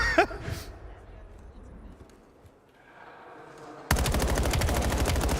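Rapid automatic gunfire from a Call of Duty League match in LA Thieves versus Riyadh Falcons, a dense loud burst of repeated shots that erupts late after a quieter stretch of muffled game ambience and a sharp early shot.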